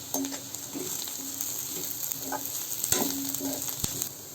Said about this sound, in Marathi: मिरची खडे मसाले पुदिना हे मिश्रण मिक्स करून घेऊ